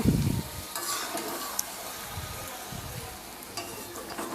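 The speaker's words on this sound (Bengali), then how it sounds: "দেখতে পাচ্ছেন কি সুন্দর এখানে তেল ছাড়তেছে মাংস দিয়ে" Chicken pieces cooking in oil in a pan for chicken kosha give a steady close sizzle, with a few soft stirring scrapes near the start and middle.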